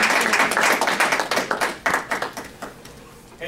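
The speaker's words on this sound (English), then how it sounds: "Let's give Sid a round of applause." Audience applause for a speaker at a live real estate training event, a burst of dense clapping that thins out and fades over a few seconds.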